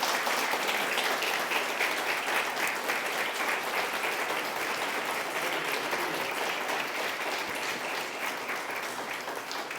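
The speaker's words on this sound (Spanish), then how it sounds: "Dale un aplauso al Señor" A church congregation at a sermon applauds in praise, a loud, sustained wash of many hands clapping that fills the room evenly without pause.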